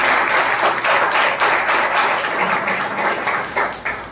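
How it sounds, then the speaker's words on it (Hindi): A church congregation at a Hindi worship service claps together in thanks to God, a loud, dense, continuous burst of many hands with a slight rhythmic pulse, tapering near the end. "ताली बजा के एक बार परमेश्वर को धन्यवाद"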